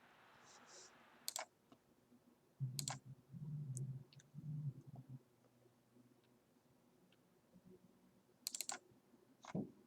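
Scattered bursts of typing and clicking on a computer keyboard, quiet and close, with a stretch of low murmuring voice partway through.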